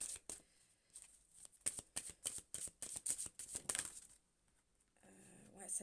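Tarot cards being shuffled close by, a quick run of riffling, flicking bursts that stops abruptly, followed by a softer rustle at the end in a quiet room.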